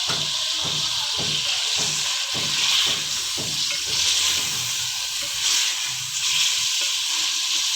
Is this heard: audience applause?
no